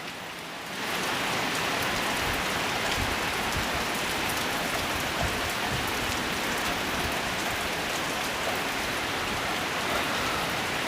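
Heavy storm rain in a rubber plantation in southern Isan, Thailand, starts suddenly and then pours steadily, a dense, even hiss of drops drumming on surfaces nearby.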